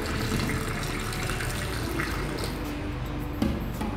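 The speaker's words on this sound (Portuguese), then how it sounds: "Agora vou estar jogando um pouco de água." Water is poured into a clogged sink drain to clear it, making a steady, loud, close rush and gurgle that runs unbroken throughout.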